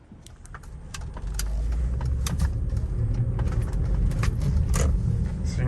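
A 2012 Hyundai Santa Fe with a 3.5-liter V6 and a torque steer fault accelerates, its engine note rising into a steady, close, loud drone with road rumble and scattered clicks inside the cabin.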